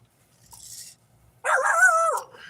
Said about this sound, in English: My watchdogs are barking.